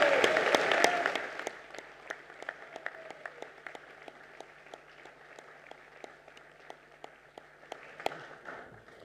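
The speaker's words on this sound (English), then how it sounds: "Can we please give a big round of applause to Charlie Evans?" Audience applause at a high school prize giving, opening with a full burst of clapping that quickly thins out to scattered, distinct individual claps from the crowd that continue sparsely to the end.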